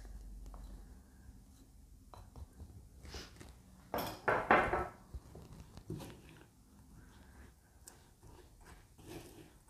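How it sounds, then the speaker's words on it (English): A spatula mixes sugar sheet mixture in a bowl, making soft, sparse scrapes and taps with a louder cluster of scraping midway, in a quiet room. "And then just give it another mix."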